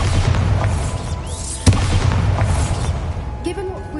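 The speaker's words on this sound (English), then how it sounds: "Bombarda!" A Bombarda explosion spell in Hogwarts Legacy on PS5 lands with one sharp blast cutting through a loud rumbling game soundscape, followed by lingering low roar and faint debris.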